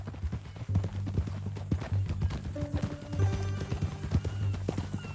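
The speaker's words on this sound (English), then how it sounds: "That new horse? Some folk buy ranches, some buy horses." Horse hooves clip-clop in a steady, fairly close rhythm on a ranch, with a low hum and a few faint tonal sounds in the background.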